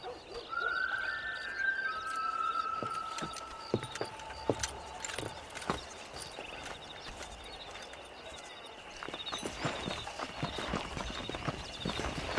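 Horse hooves clip-clop at a walk in Red Dead Redemption 2, with steady game ambience and brief tonal cues, spread through the scene at moderate level.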